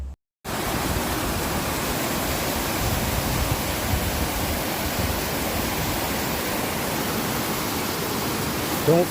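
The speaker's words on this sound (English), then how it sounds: "You can definitely hear the water picking up speed here." Rushing water at the Cascades waterfalls makes a steady, dense roar, loud and continuous from just after the start to the end.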